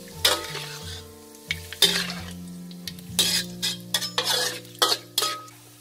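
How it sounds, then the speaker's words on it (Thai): Lemongrass frying in hot oil for a Thai minced pork chilli dip, heard as a low steady sizzle broken by repeated scraping and clinking of a utensil against the pan, with no talk. "เราจะทอดตะไคร้ของเราให้เหลืองนะคะ"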